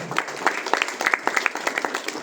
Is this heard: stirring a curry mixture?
no